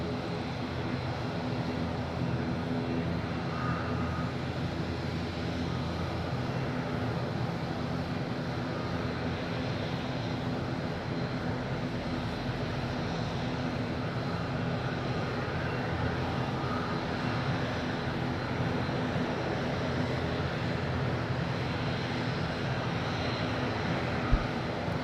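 Airliners approach Madeira Island Airport, including Jet2, TAP, easyJet and Ryanair jets, heard as a steady, distant engine drone that holds evenly throughout with no talk.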